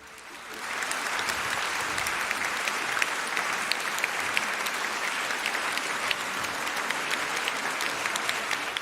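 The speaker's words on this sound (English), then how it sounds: "another warm round of applause" An audience at a Nigerian debate competition's round-of-16 match gives the debaters a warm round of applause, dense and steady clapping that swells in quickly and holds evenly throughout.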